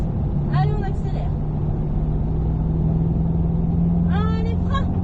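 A car accelerating on the Mettet circuit during a track driving lesson gives a steady, loud engine rumble throughout, while an instructor talks over it in two short bursts.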